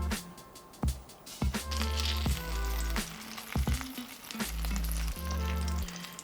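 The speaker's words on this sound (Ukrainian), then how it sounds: "Олія, суміш з яйця і молока підсолена і на пательню." Egg and milk batter, lightly salted, hitting hot oil in a frying pan for juicy bendericks, a loud close sizzle broken by sharp clatters and scrapes of a utensil, with no talk.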